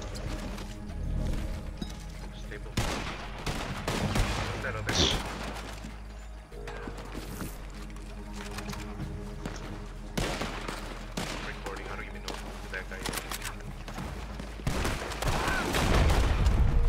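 Repeated gunshots and bursts of fire in a western-themed online shooter, with lasso and hogtie action, crackling steadily over a constant background rumble, with occasional voices mixed in.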